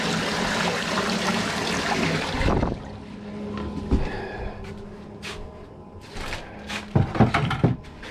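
Water runs in a broad rushing pour for a couple of seconds as the base for bee sugar syrup, followed by quieter clinks, trickles and small handling sounds nearby.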